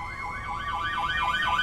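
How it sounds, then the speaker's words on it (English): A wailing emergency siren sweeps up and down in rapid, regular cycles, loud and growing slightly louder as it nears. "A siren approaching, and it just seems to be getting louder and louder."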